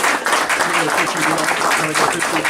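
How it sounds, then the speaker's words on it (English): A room of people applauds a presenter named Grant at an ASQ Memphis Section meeting, steady dense clapping over the whole stretch with voices mixed in. "So let's give Grant a round of applause."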